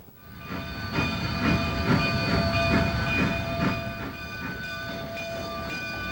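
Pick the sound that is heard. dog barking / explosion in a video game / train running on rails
train running on rails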